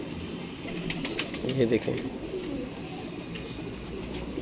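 A domestic pigeon, a female tumbler-type bird, taking flight with a short flurry of wing flaps, heard outdoors under a voice speaking over steady background noise.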